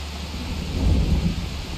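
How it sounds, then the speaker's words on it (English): Thunder rumbles with steady rain in the Farming Simulator 25 video game, a loud continuous low roar swelling in the middle and easing off, with no talking over it. "And I hear thunder."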